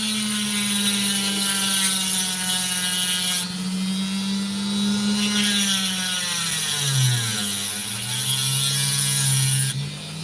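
Saw blade cutting through opal rock along a sand line, a loud continuous whining grind that dips and shifts in pitch as the blade bites into the stone.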